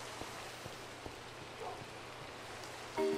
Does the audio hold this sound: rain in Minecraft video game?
yes